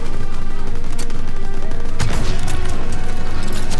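Rapid bursts of gunfire in Call of Duty: WWII rattle loudly and continuously, with heavier blasts around the midpoint.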